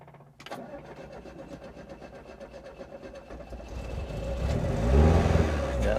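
A vintage Fiat Spider engine cranks on starter fluid, a loud close rumble with a steady pulsing crank that builds and roughens toward the end as it tries to catch.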